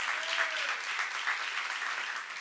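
A church congregation claps in unison during a seminar sermon at a Jesus-centered church, producing a fairly loud, continuous burst of applause that holds steady throughout.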